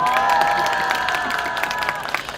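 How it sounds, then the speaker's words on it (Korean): Crowd at an outdoor Wednesday rally in Seoul breaks into applause and some cheering, dense and steady, with a sustained tonal hum running through it. "여러분 박수를 부탁드리겠습니다"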